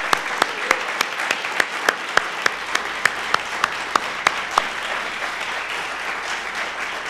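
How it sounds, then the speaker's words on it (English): Audience applause at a university donation announcement for a new music initiative: a crowd clapping steadily, with sharp individual claps standing out at first, then thickening into a fuller, even roar of hands. "let's give one more set of applause for that"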